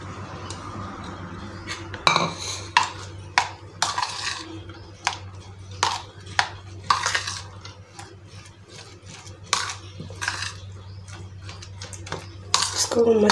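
Chopped carrots being stirred in a pan while cooking vegetables for a chicken sandwich, heard as repeated utensil clinks and scrapes against metal in an irregular rhythm, with a steady low hum underneath.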